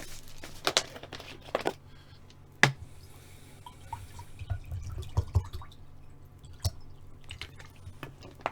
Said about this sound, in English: As I pour some water.